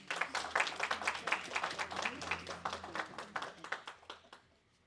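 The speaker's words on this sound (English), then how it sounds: "Give the mayor and then members of the council and the CRA chair a big round of applause" A small crowd gives a round of hand clapping at a city press event with the mayor and council members, the claps fairly distinct and rhythmic before tapering off near the end.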